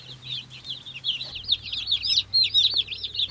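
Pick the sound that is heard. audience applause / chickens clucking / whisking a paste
chickens clucking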